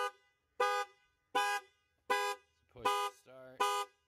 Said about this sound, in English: so the alarm's going to go back off.